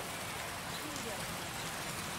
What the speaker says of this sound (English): Yeah, it's a little rainy right now.